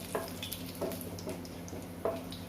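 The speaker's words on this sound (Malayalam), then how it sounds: "അതിലേക്ക് ജീരകം ഇട്ട് കൊടുക്കാം." Cumin seeds dropped into hot oil with cardamom and cloves in a pan, a soft continuous sizzle with a few light crackles and stirring clicks.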